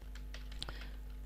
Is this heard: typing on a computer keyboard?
yes